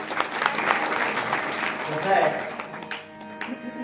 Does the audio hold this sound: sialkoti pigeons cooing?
no